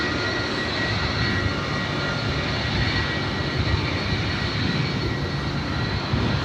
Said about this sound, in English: Next arrival, Delta Connection, SkyWest Flight 3914, coming in from San Jose, California. It's an E175 LR.